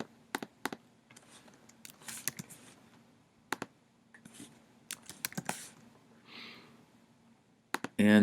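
Bursts of typing on a computer keyboard, close and fairly quiet, with irregular clusters of sharp key clicks separated by pauses.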